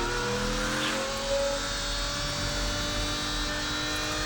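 A Pagani Huayra R Evo Roadster's 6-litre V12 engine sounds as a continuous, close drone with strong harmonics that lift slightly and hold steady across the clip, with no voices.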